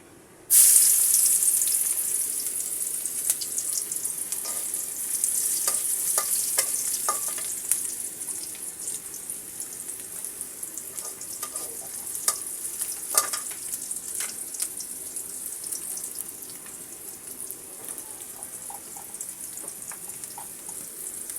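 Loud, steady sizzling of chopped onions frying in hot oil in a wok starts abruptly and continues throughout, with occasional light clinks and crackles, close up.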